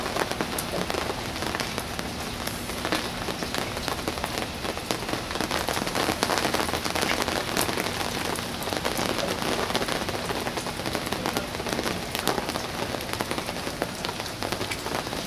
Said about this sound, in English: You can't see much because of the rain.